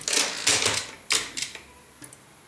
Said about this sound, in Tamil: இப்போ இதில் புஷ்பம் அப்படின்ற வேர்டையும் நான் டைப் பண்ணுறேன்